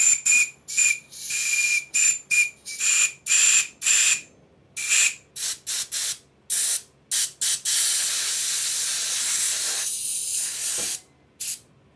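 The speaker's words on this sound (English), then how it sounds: "I'm feeding 40 pounds per square inch of compressed air to the whistle." A Stuart model steam whistle blown with compressed air at 40 psi gives repeated short, shrill blasts with breathy hiss, then one longer sustained whistle, close and loud.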